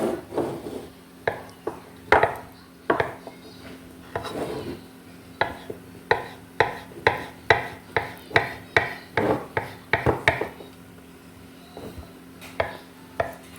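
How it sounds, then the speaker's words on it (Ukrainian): A knife chops boiled eggs on a board, sharp taps coming sparse at first and then in a quicker, steady rhythm, close and clear. "Нарізаю яйця."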